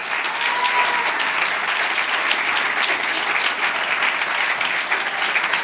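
A church audience at a Hindi sermon breaks into loud, dense, continuous applause that holds steady throughout with no pauses, and no clear voices rise above the clapping.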